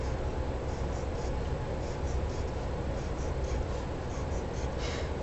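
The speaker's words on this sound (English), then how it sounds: "So let's draw our cube train for the story problem." A pencil or marker draws a row of ten cubes on paper, making a steady scratchy writing sound at close range that runs throughout with no speech.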